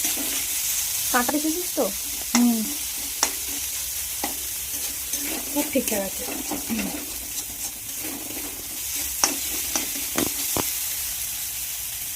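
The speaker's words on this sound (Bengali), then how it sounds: "আর এখানে আছে পেঁয়াজ, গাজর আর আদা। এটা হালকা একটু ভাজা হোক।" Onion, carrot and ginger frying lightly in a pan for fish momo, a steady close sizzle broken by scraping stir strokes, with voices talking intermittently over it.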